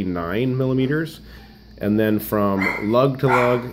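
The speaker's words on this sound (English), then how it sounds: "excuse my dogs there." Dogs bark in quick bursts in a room while someone talks over them, the barks surfacing between and under his speech.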